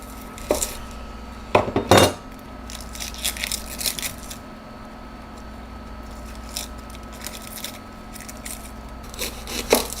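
A knife trimming shallots on a cutting board, a few sharp close taps and cuts clustered early and scattered later over a quiet room hum, no talk.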